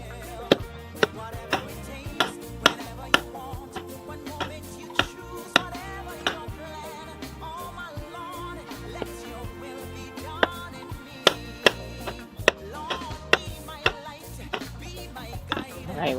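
Zucchini and squash chopped on a cutting board in a van kitchen, a string of sharp knife knocks in uneven bursts over quiet background hum, no talking.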